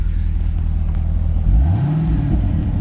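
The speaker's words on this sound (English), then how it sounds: "Exhaust sounds really good" A 2007 Chevrolet Corvette coupe with an automatic transmission idles with a deep, rumbling exhaust note, then revs once as the engine pitch climbs and settles back.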